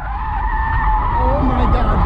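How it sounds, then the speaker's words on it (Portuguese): A car doing a handbrake spin in front of a police vehicle, its tires skidding in a continuous loud squeal with a rising and falling pitch, over engine roar and a voice speaking. "decidiu dar um cavalo de pau bem em frente à viatura da polícia"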